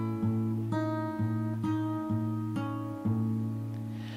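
An acoustic guitar picks a repeating pattern from a song, with alternating bass notes and ringing treble notes in an even, gentle rhythm, played up close and unaccompanied.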